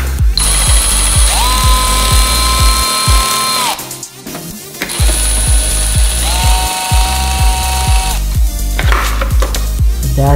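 A power tool on the battery tie bar bolts of a 2011 Acura TSX whirs loudly in two long runs with a rapid rattling impact pulse, separated by a brief pause of lower clatter, very close.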